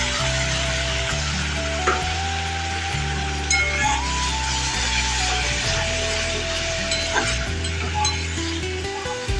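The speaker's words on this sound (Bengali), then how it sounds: "কড়ায় তেল গরম করতে দিয়েছি, সামান্য জিরে ফোড়ন দিলাম, কুচনো পেঁয়াজ দিয়ে দিলাম" Chopped onion frying in hot oil with cumin seeds in a kadai, an even, close sizzle with occasional spoon clinks and stirring knocks against the pan, no talking.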